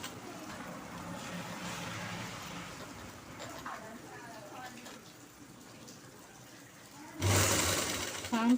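A sewing machine runs steadily while stitching a blouse sleeve, a continuous motor whirr under quiet room noise, ending with a louder, harsher burst near the end.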